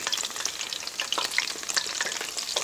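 Veiled oyster mushrooms fry in a pan with a steady, close sizzle and scattered small crackles and pops throughout.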